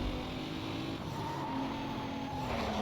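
A car in a street racing video game skids with a thin tire squeal over a steady engine drone, the whine sliding in pitch at moderate loudness, with no talking.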